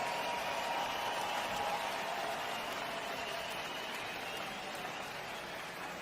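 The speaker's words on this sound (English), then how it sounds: "let's get a nice round of applause out here for both of these warriors" Sustained applause and crowd noise fill a boxing arena at Madison Square Garden in New York City after a ten-round women's bout, a dense, steady roar that stays loud throughout and fades only slightly at the end.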